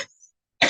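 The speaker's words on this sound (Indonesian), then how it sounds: "Saya agak batuk." A single short, harsh cough bursts out close by after a brief silence.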